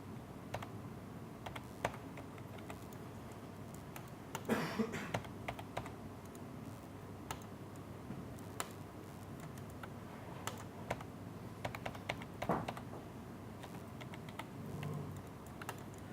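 Computer keyboard keys being pressed, soft scattered clicks and short bursts of typing at low volume in a quiet room, with no voices.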